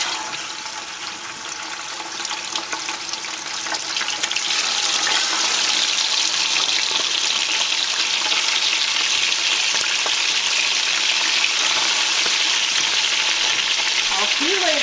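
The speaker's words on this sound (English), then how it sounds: "Before you add your pork, you wanna make sure that your oil is really, really hot" Pork sizzles and spits in very hot oil and rendered pork fat in a pan, a loud, continuous frying hiss that swells after a few seconds and holds steady, close up.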